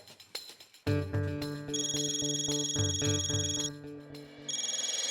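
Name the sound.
phone ringing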